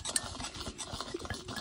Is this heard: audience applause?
no